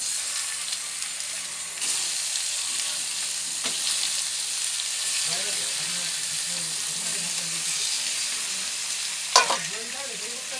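Marinated meat frying in a pan, giving a steady loud sizzle throughout with occasional stirring clinks and a sharp tap near the end, while a voice murmurs faintly in the background.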